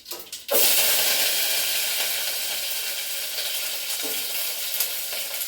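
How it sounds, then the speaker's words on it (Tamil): Shallots and curry leaves hit hot oil with cumin: after a few quiet taps, a sudden loud hissing sizzle bursts in and holds steady, slowly easing, with faint stirring clicks and no talk. "கருவேப்பிலையும் சின்ன வெங்காயம் சேர்த்துறேன்"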